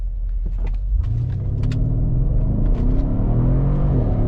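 A Mercedes ML63 AMG launches hard from a standstill, its engine rumbling loudly and rising in pitch as it accelerates continuously up through the revs, close and steady with no talking.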